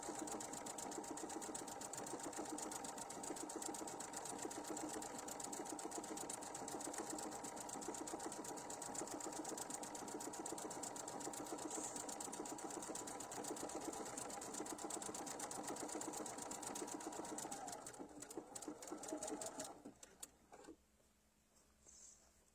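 A sewing machine runs a long, fast, steady stitching burst at close range, its even mechanical rattle holding for about twenty seconds before slowing and stopping, with no voices.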